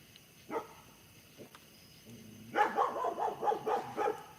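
A dog barks indoors at night, starting with a single faint bark, then a low whine and a burst of several loud, rapid barks close by near the end.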